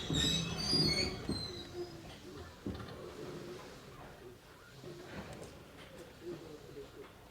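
Inside an Izuhakone Railway 3000 series electric train on the Mishima to Shuzenji line, a low rumble of rail noise carries a brief high wheel or brake squeal at the start, then settles into a quieter, steady hum.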